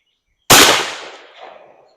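A single loud, close .410 shotgun blast firing 2.5-inch buckshot with a stretch wad at an outdoor range, with a sharp onset and a decaying echo tail.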